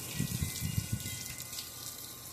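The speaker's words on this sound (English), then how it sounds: "I've drilled holes in this bucket, and I can take a shower" Water pours steadily from holes drilled in a 5-gallon bucket used as an outdoor shower, a soft continuous splashing patter close by with no talking.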